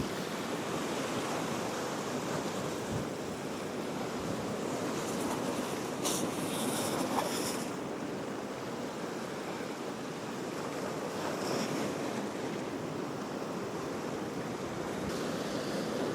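Sea waves surge and wash against the shore by Perch Rock lighthouse under onshore wind, a continuous loud roar of surf with wind buffeting the microphone and a few brighter crashing swells.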